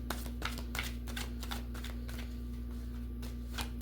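Soft, repeated riffling and tapping of a deck of cards being shuffled, quiet and close over a low steady hum.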